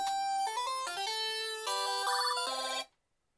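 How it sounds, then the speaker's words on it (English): A mobile phone plays a bright melodic ringtone for an incoming call, a run of clear electronic notes stepping up and down for about three seconds before it stops abruptly and leaves silence. "Excuse me, that's my phone call."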